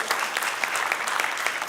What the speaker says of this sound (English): Give her a round of applause, Shannon.